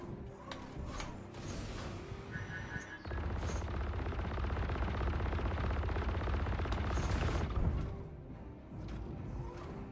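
Sustained automatic gunfire comes from a video game during a mining-day session. A dense, loud burst roars for about five seconds, and lighter shots come before and after it, with no talk over it.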